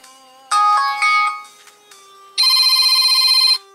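An Ulefone Paris 4G smartphone plays its notification tones through the bottom speaker: loud, bright electronic chimes in a short melodic burst, a pause, then a longer sustained ringing pattern, heard alone and close.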